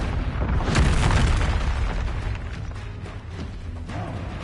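In Hogwarts Legacy, a Confringo blasting spell bursts with a heavy, close boom, followed by rumbling aftershocks and smaller pops that stay fairly loud before easing off.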